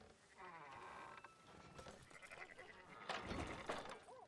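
Sheep in Red Dead Redemption 2 bleat several times, with overlapping calls close by against a background of game ambience and movement noise. A louder cluster of bleats comes near the end.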